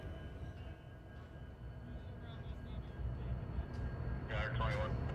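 A freight train led by two Kansas City Southern locomotives rumbles past at a distance, a low steady roar that swells toward the end, with people talking nearby.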